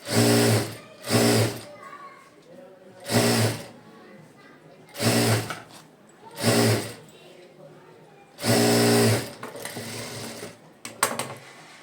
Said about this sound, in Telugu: మళ్ళీ ఇప్పుడు స్టార్టింగ్ నుంచి అయితే ఒక కుట్టు అయితే వేసుకుందాం ఇలాగా